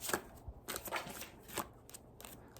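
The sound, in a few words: tarot cards being shuffled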